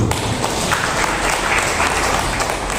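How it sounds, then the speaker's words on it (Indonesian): A hall audience at a university vice-rector inauguration breaks into loud, dense applause, continuous clapping close and filling the space for a few seconds. "kira-kira kita beri aplaus dulu"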